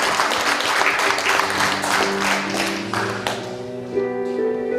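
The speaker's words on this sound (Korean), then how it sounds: "주님 앞에 정말로 큰 소리로 가장 큰 소리로 영광의 박수 한번 올려드리겠습니다" A church congregation at a Wednesday praise and prayer meeting claps loudly and steadily, the applause filling the room while sustained organ or keyboard chords swell beneath it and linger as the clapping thins.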